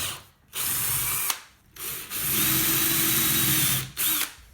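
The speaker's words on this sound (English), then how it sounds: "drilled the holes all the way through using the drill press" A drill press whirs steadily in several long bursts with short pauses between, a loud close grinding hum as the bit bores through wood.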